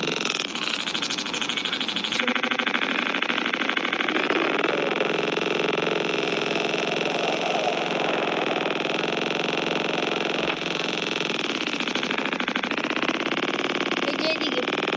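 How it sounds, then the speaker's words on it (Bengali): A police car engine idling nearby, a steady droning hum that holds evenly throughout, with people talking over it. "এই যে পুলিশ গাড়ি"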